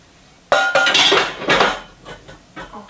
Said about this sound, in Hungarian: Most jut eszembe, hogy ide teszem az edényt.